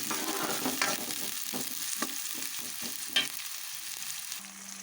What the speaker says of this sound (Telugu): బాగా ఫ్రై చేసుకున్నాను ఉల్లిపాయలు